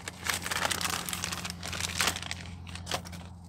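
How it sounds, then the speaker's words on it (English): Plastic packaging around a Metra 72-1002 car stereo adapter is ripped open, a close crinkling and tearing with several sharp rustling bursts over a low hum, no voices. "Go ahead and rip that open like a savage"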